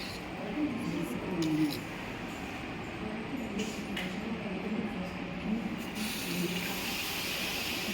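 Water is poured slowly into a cooking pan holding semolina, giving a soft continuous trickling hiss under steady talking from nearby speakers.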